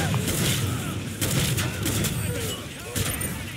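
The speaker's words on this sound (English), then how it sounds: "Magazine shotgun." Magazine shotgun blasts in the video game Killing Floor 2, several loud booming shots in quick succession with a few more spaced out later, firing amid other game noise.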